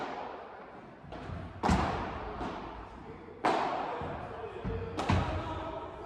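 Padel ball thudding against the glass wall of an enclosed court during a match, several sharp impacts with hard echoing reverberation, and faint court ambience between hits.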